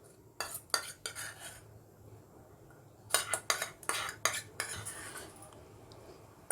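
A spoon mixes sesame laddu mixture with ghee and palm jaggery in a metal vessel, scraping and clinking in two bursts of rapid strokes separated by a quiet pause.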